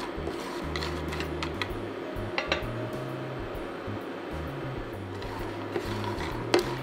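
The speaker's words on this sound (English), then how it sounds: "the pecans start making a different noise when you when they're toasted" Pecans toasting in a pan on an induction cooktop, a faint steady bed of soft clinks and ticks with an intermittent low electrical hum from the cooktop, no voices.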